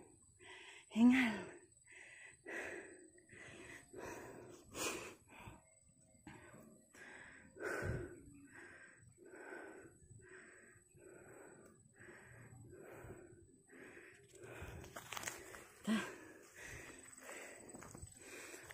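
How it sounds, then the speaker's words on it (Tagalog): A hiker breathes hard and wheezes while climbing toward a summit viewpoint, with repeated close, uneven gasps and light footsteps over a faint steady hum. "Hingal."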